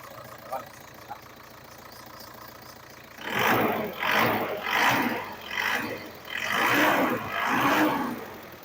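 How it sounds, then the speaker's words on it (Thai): After a couple of small clicks, an Isuzu D-Max 2.5-litre direct-injection diesel pickup engine catches and revs in repeated loud bursts, about five rising roars with brief dips between. "เดี๋ยวผมลองสตาร์ทเครื่องยนต์ให้ฟังเสียงกันดู เครื่องยนต์สตาร์ทติดง่ายมาก เดี๋ยวผมเร่งเครื่องให้ฟังกันตรงนี้เลยนะครับ"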